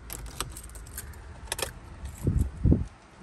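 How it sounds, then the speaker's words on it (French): Car keys jingle in short metallic bursts as a key goes into a car's ignition, followed by a couple of low thumps from handling inside the vehicle, all close and quiet. "Ah, il faut mettre la clé."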